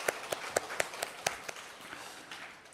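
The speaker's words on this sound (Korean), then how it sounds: "우리 학생들 예배 잘 드리도록 한번 격려의 박수를 하도록 하겠습니다" Congregation in a church clapping in encouragement for students attending worship, a sparse run of distinct claps that starts fairly strong and thins out, fading into quiet room noise.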